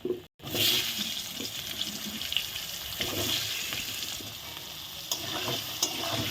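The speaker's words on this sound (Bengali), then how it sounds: "আমি এখন একটু দেখো আলুগুলো আমি ভেজে নিচ্ছি" Potatoes fry in oil in a pan with a loud, continuous, close crackling sizzle. A momentary cut near the start is followed by stirring scrapes layered over the steady frying.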